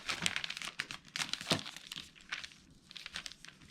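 Paper chipboard being folded over for a handmade paper flower box, heard as close, crisp crinkling and creasing with a sharper crunch midway, continuous but uneven, with no talking.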